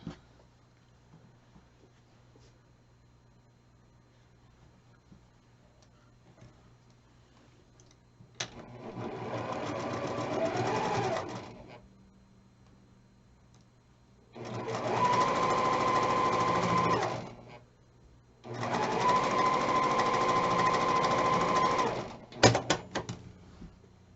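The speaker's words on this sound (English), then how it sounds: "Now I'm going to sew this piece to this piece by flipping it on top and sewing a 1/4 inch along this line." A sewing machine stitching a quarter-inch seam to join quilt block pieces, with three steady whirring runs of a few seconds each separated by quiet pauses and a couple of short clicks at the end.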